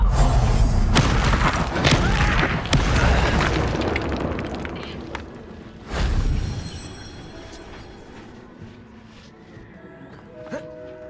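A Confringo blasting spell goes off in Hogwarts Legacy, a loud booming burst with a rumbling tail, then a second deep thump midway that fades into quieter game ambience.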